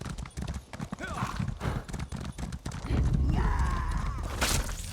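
Horse hooves clip-clopping at a gallop in the Elder Scrolls Online fantasy game, a steady rhythmic beat up close, with a brief whinny and game music tones laid over it.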